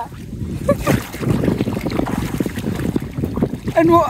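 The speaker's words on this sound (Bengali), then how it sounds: "নৌকা আবার চলে যাবে।" A boat moves on water, with a steady broadband wash and wind buffeting the microphone throughout, and people talking over it.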